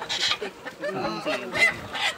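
Native farm chickens in San Miguel, Bulacan, being loaded for pickup: close, loud squawks and clucks in irregular bursts over a couple of seconds, with people talking nearby.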